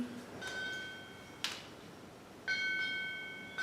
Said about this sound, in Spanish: Esa es una campana que trae buenas vibraciones. Dejemos la que suena, es una campana oriental.